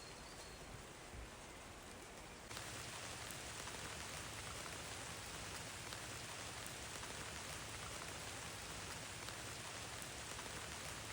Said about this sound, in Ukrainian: на вулиці неймовірний дощ, іде просто жах